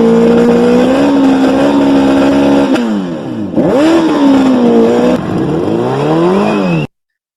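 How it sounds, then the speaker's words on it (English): A motorcycle engine revs loudly, its pitch climbing and dropping in repeated surges, then cuts off abruptly near the end. "the noise of this motorcycle"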